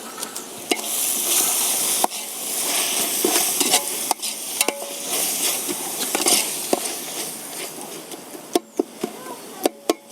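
Onions and tomatoes sizzle and fry in a pan over a wood-fired stove in a thatched hut, a close crackling hiss broken by sharp clicks and pops, with faint buzzing insects around it.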